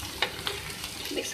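A spoon stirs crushed red chilli flakes into a macaroni filling frying in a pan, giving a soft sizzle with a few light scraping clicks, short and fairly quiet.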